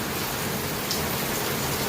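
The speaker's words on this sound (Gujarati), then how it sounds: "જોરદાર વરસાદ આવી ગયો ને." Heavy rain pours down in a dense, constant hiss of drops striking surfaces, loud and unbroken, with no voices.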